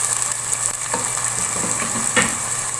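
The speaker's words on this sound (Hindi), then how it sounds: "अब हमने इसमें ये जिंजर गार्लिक पेस्ट भी ऐड कर देना है। तो थोड़ा सा हम भूनेंगे," Ginger garlic paste and onion sauté in a pan with a steady close sizzle, broken by a few soft scraping stirs.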